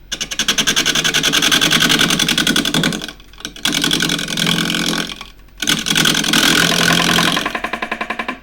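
Wood lathe turning a square dish with a 1/2 inch spindle gouge, a loud steady whirring hum with rhythmic pulsing as the square corners strike the tool, broken by two short pauses.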